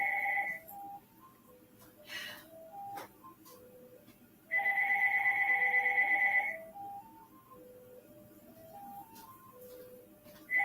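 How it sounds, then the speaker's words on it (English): A mobile phone rings in a home kitchen, its melodic ringtone repeating as stepped rising notes with a louder sustained burst in the middle, clear and fairly close against a quiet background. "That's my phone."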